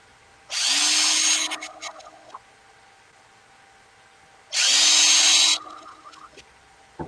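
A powered star screwdriver runs in two short bursts of about a second each, with a gap of several seconds between them. It whirs high and loud against a quiet room.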